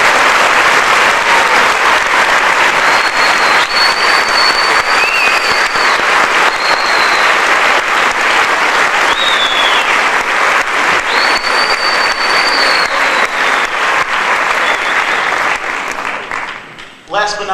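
Sustained audience applause at a school symphonic band spring concert, dense and loud clapping filling the hall for over fifteen seconds, with a voice speaking over it before the clapping tapers off at the end.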